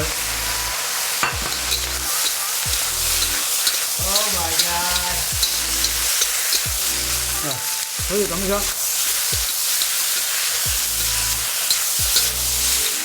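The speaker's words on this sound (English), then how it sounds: "After stir frying the green onions for 30 seconds, we'll turn off the heat" Beef and green onions sizzle loudly in a hot wok as they are stirred and tossed, with spatula scrapes and brief voices over the frying.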